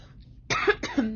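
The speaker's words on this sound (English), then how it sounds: "Oh, my coughing is coming back again." Two quick, close coughs follow a brief quiet moment, each a short harsh burst.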